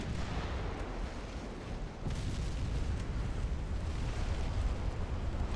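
Naval guns in the warship game Ultimate Admiral: Dreadnoughts fire in a dense, continuous roar of booms and blasts, loud and sustained without a break, with a heavier surge about two seconds in.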